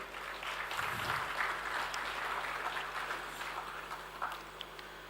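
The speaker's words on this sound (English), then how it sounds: "So big round of applause to all of them." Faint, distant audience applause at a school silver jubilee annual day in Qatar, scattered clapping across a large hall, low in level and fairly even.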